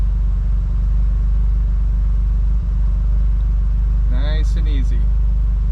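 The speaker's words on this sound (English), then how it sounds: "That was at idle with the cooling fan." An Autozam AZ-1 sits idling with its cooling fan running, a steady low engine drone and even fan whir that hold constant throughout; a voice speaks briefly near the end over the hum.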